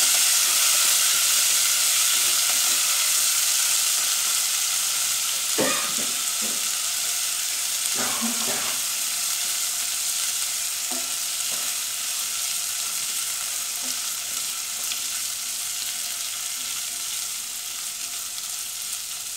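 Jackfruit seeds being stir-fried in a pan give off a continuous loud sizzle and hiss, broken by a few scraping stir strokes around the middle, then settling back to an even frying crackle.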